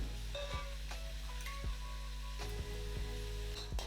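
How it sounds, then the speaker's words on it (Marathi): Onion fries with cumin and coriander seeds in a large batch of mixed vegetable curry, a soft continuous sizzle under a steady low hum, punctuated by several sharp clinks and scrapes of a stirring spoon against the pot. "कांदा चांगला लाल होईपर्यंत आपण भाजून घ्यायचा आहे"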